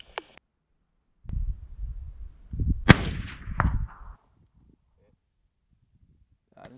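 A rifle fitted with a B&T MARS 556 QD suppressor fires two or three muffled, sharp shots close by, each trailing a short rumbling echo, with some voices nearby.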